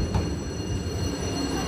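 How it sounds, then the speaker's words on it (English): A passenger train pulling away from a station, a low continuous rumble of wheels and carriages with a faint metallic squeal, moderately quiet and steady, no talk. "We entered the station together, and it didn't take long for the train to depart."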